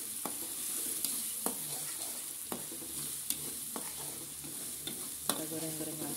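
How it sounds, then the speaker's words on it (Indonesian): Petai beans sizzle as they are stir-fried in a pan for sambal, a steady oily crackle broken by regular scraping knocks of the spatula roughly every second, close and clear with no voices. "Kita goreng-goreng lagi sampai petainya layu."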